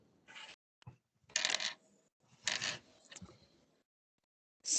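Dice rolling and clattering on a table during a tabletop role-playing game: several quick rattling bursts with brief pauses between them, close and fairly crisp, no talk over them.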